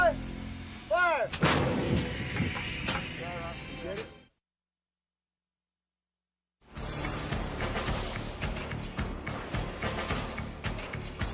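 Artillery gun firing on command during a crew drill: shouted orders and radio-style voices lead up to a sudden deafening blast, then a stretch of silence before a long, heavy rumbling aftermath.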